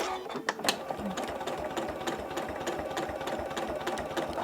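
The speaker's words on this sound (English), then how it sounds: "Let's start stitching." A sewing machine fitted with an F2 applique foot stitching fabric, a fast steady mechanical whirring and rapid needle chatter running continuously up close, with only a few faint bumps at the start.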